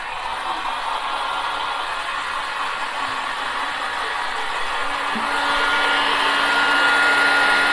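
A hair dryer blows steadily while drying gloves, a constant close whooshing whine that grows slightly louder toward the end, with no talking over it.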